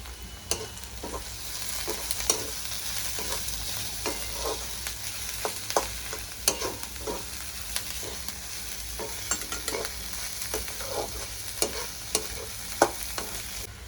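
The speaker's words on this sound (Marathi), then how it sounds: "कांदा आपला लालसर झालाय, मी आता लसणाच्या पाकळ्या ठेचून घेतल्या टाकल्या।" Onion and crushed garlic cloves fry in a pan, a steady sizzle broken by repeated scraping stir strokes close up, with no talking.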